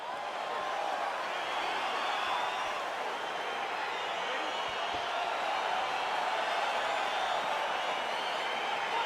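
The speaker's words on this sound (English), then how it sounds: "crowd getting excited as this fight gets underway" An arena crowd in the video game UFC 4 cheers as a fight gets underway in Las Vegas, a dense, steady roar of many voices that holds for several seconds.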